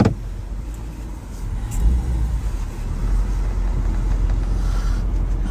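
A car drives off quickly from a two-car traffic stop, its engine a steady, fairly loud low rumble that swells slightly as it pulls away, with no talk over it.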